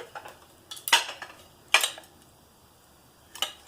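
Vintage ceramic plates from a thrift haul knock and clink as they are handled, giving three separate crisp clatters spaced apart, close and fairly sharp against a quiet background.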